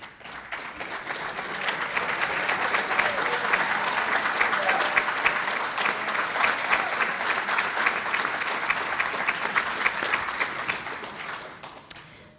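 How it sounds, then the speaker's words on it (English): Applause for Hall of Fame members at a varsity club dinner, a crowd clapping steadily, swelling quickly and holding full and close before tapering off at the end. "Please stand at this time for a round of applause."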